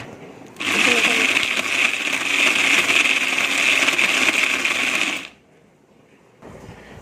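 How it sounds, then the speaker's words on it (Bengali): A kitchen mixer grinder blends mutton with papaya and onion in a loud, steady whirring burst lasting about four and a half seconds, then cuts off abruptly, leaving quieter background. "এটাকে আমি মিক্সার করে নেব।"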